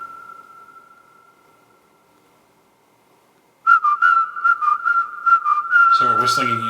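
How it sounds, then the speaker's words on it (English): Whistled melody, first a single sustained tone fading out, then several whistlers joining in unison on a bouncy tune, with a lower voice-like part entering at the end. "So we have this whistling line here."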